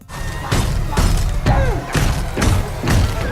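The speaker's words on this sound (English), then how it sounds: "Pennywise begins to smash the glass" Glass smashed in a horror film scene from It Chapter Two, loud repeated crashing impacts at roughly half-second intervals with heavy low thuds and bright shattering, layered over a tense score.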